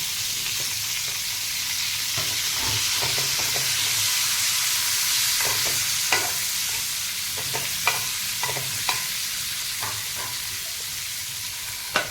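Chopped garlic cloves, onion and chillies fry on a hot tawa with a steady, dense sizzle, broken by scattered clicks and taps from stirring.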